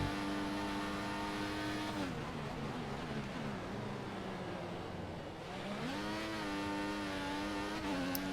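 Formula 1 racing car engines in the F1 2014 video game scream in a loud, continuous high-pitched whine, the revs dipping and climbing back up as cars run close together in a pack.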